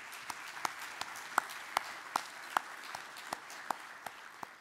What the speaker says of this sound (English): if we could please give them a round of applause for all their work today